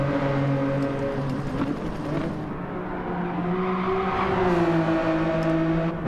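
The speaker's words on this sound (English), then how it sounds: "You could hear it, it was still trying to spin up the rears then" Race car engine in Gran Turismo droning at high revs with wavering pitch as the rear wheels spin up, steady and close for several seconds, slight tyre scrub under it.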